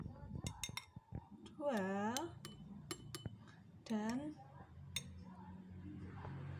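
A metal spoon clinks against a glass a few times in quick bright taps while spoonfuls of oil are added, with a voice speaking between the clinks.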